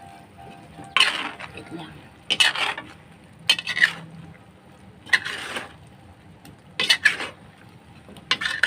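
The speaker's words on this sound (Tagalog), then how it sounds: "Tapos, haluin na natin." Vegetables and coconut cream are stirred in a pot, producing a series of separate metallic clinks and scrapes of a utensil against the pan at irregular intervals, with a brief spoken phrase.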